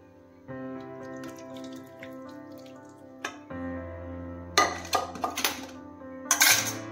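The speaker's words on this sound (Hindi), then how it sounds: "अब मैं पनीर को इस छन्नी की मदद से छान लूंगी" Homemade paneer strained through a metal sieve, with clinking of utensils and a pot, short splashy bursts of draining water near the end, close and fairly loud with no talk.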